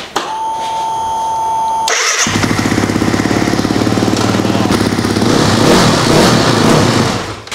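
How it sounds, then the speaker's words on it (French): A superkart engine is started with a key after a short beep: it cranks, catches and settles into a loud, fast-pulsing idle, close by and alone, rising slightly toward the end. "Vas-y, tourne la clé."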